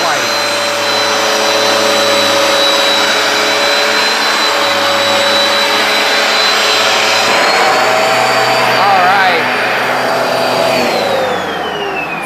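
A Hoover Power Dash carpet cleaner runs close and loud, a steady high-pitched motor whine with a rushing airflow roar that shifts pitch slightly before winding down near the end.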